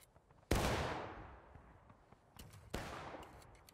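Two loud musket shots from the Civil War shooter War of Rights, each a sharp broadband crack with a long, rolling echo tail, about two seconds apart, with faint scattered gunfire crackling in the background between them.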